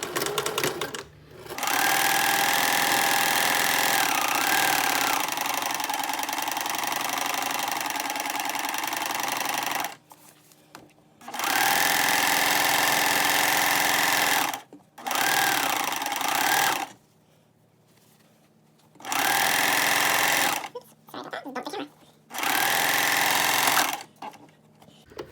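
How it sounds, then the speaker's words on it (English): A sewing machine stitches and back tacks a seam on a pair of pants, running in steady motor bursts, one long stretch followed by several shorter runs with brief pauses between, close and fairly loud. "I am going to back tack on this seam"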